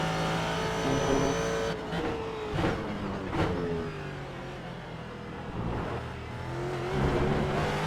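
Ford GT race car in the iRacing simulator, engine revving and shifting with rising and falling pitch, several sharp throttle changes and some tire squeal, loud and steady throughout.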